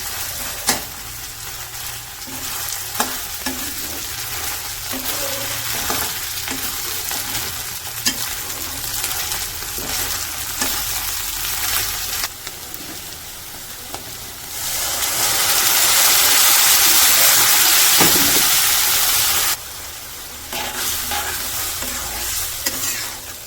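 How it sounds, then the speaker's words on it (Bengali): Ginger garlic paste and beef pieces frying in hot oil, a steady sizzle with repeated stirring scrapes, swelling to a loud, bright crackle midway before settling back; no talk. "আদা রসুনটা একটু তেলের সাথে ভাইজা নিয়ে"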